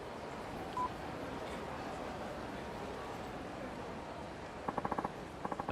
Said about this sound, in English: A phone call at a time like this.